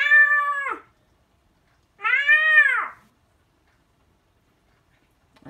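A cat gives two drawn-out meows, clear and close, with a short silent gap between them and quiet afterward.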